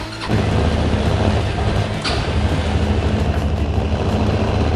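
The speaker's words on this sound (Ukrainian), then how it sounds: "Рубрика звук мотору, то є карбуратор." A LINHAI LH400 carbureted ATV engine runs at a loud, steady idle up close, a constant low throb with no talk over it.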